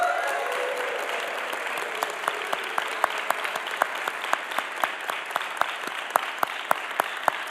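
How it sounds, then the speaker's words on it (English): An audience applauds steadily at a university jazz institute event announcing its acquisition of the complete Count Basie collection; dense, sustained clapping fills the room, with sharper individual claps standing out throughout. "Y'all can clap a long time for that."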